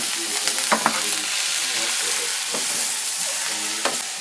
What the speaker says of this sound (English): you kind of want to fry up the onions till they start turning brown